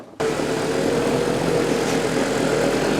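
An old-fashioned car polisher buffing a wooden chessboard switches on suddenly and then runs as a loud, steady motor whir with a low droning hum, close and continuous, with no talk.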